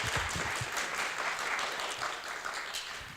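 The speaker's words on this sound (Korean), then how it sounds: "다시 한번 혹시 박수 쳐줄 수 있으신가요?" An audience applauding at a conference talk, a dense steady patter of many hands clapping at moderate distance, sustained throughout without speech.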